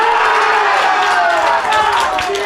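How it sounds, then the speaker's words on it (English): Crowd cheering and clapping from a grandstand at the FootGolf World Championship in Acapulco after a putt on the 18th hole, loud sustained whoops with a commentator talking over it. "The cheer you're hearing"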